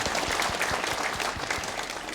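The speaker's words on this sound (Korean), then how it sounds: "우리 박수로 하나님께 영광 돌리겠습니다." A church congregation claps together at a Korean early-morning prayer service, a dense, lively round of applause from a packed room, close and steady for its brief length.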